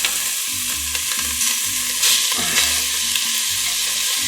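Beef frying in a very hot pan: a loud, dense, continuous sizzle close up, with a faint low rhythmic pulsing underneath.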